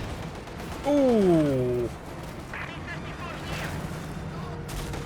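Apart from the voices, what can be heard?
bundle grenade and gunfire in the Company of Heroes 2 video game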